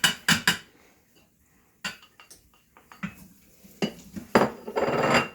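Kosher salt and fresh cracked pepper tipped into a cooking pot in a home kitchen, heard as a few sharp metallic clinks and scrapes of spoon on pot, spaced out with quiet gaps and a louder rattling burst at the end.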